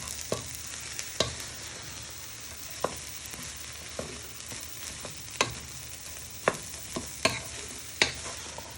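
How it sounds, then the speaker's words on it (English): Vegetables are stirred in a pan, giving a steady soft sizzle of frying broken by scattered sharp scrapes and knocks of the utensil against the pan, with no talk. "you just want to give them a stir all the way in"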